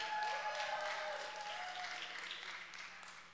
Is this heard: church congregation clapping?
yes